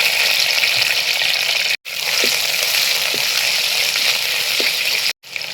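Crushed ginger and garlic fry in hot coconut oil with curry leaves and mustard seeds for a home crab curry, giving a steady, close, hissing sizzle that cuts out briefly twice.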